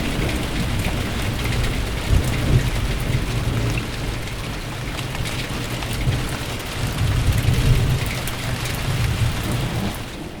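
Heavy rain pours down steadily during a thunderstorm, a dense continuous hiss with deep low rumbles of thunder swelling in and out, no voices.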